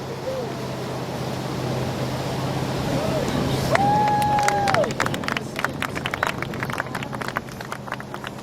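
A crowd at a live show greets rhythmic gymnasts with murmuring and cheering, a sustained whistle-like tone rising through the middle, and scattered claps thickening in the second half under the general hubbub of voices.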